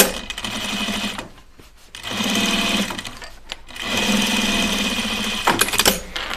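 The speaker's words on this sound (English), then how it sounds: "And now pull it back like this and top stitch it." A sewing machine top stitches a backpack, its needle running in steady rapid bursts with two short pauses between runs and a brief clatter near the end.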